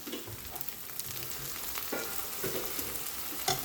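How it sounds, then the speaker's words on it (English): Onions fry for a chicken bhuna in a pan with a steady close sizzle, a few stirring scrapes and light clinks over the constant crackle. "my onions are softening really nicely"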